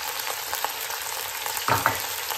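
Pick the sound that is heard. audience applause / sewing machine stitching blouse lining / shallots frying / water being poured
shallots frying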